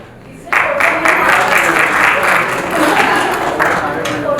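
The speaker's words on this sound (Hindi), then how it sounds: "जोरदार तालियों के साथ मैं मंच पर आमंत्रित करूंगा टीम के वाइस कैप्टन भोजपुरी योद्धास के" An audience at the Bhojpuri Industry Premier League Season 4 player auction bursts into loud applause that starts abruptly and holds steady as a team vice captain is welcomed onto the stage, with an announcer's voice over it.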